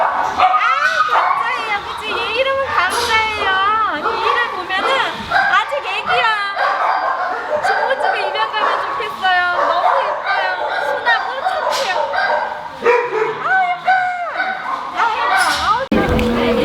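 Dogs at a rescue dog adoption event yip, bark and whimper in a busy, continuous chorus close by, with people talking over them throughout.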